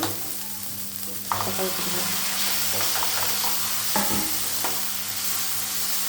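Onions fry in a pan for a broad bean stir-fry, a continuous close sizzle with intermittent scraping and stirring clatter from a spoon.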